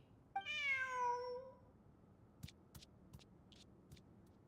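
A cat in Genshin Impact gives one clear, drawn-out meow, followed by a few faint scattered clicks and taps in an otherwise quiet scene.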